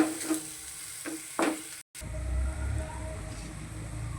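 Tomatoes sauté in a pan for an eggplant and peas bharta, giving a soft continuous sizzle with a few stirring scrapes early on, a brief gap, then a low steady frying hiss.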